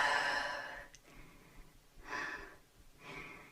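Audible breathing during an intermediate yoga session: a strong breath near the mic, then two softer, breathy inhale-exhale swells with quiet pauses between them, alone without talk.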